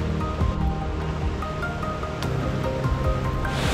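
Drift Falls, a river waterfall in North Carolina ringed by driftwood, gives a steady, close rushing roar of falling water with a faint rustle and a brief swell at the very end.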